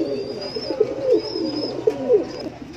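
Pigeons coo at a Bangladeshi pigeon sale, several low, throaty, rolling calls overlapping close by, with a thin whistle-like tone drifting above.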